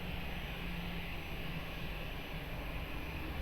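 An Air Portugal airliner takes off at Lisbon Airport, giving a steady, distant engine roar with a low hum beneath, even and continuous throughout, with no talking.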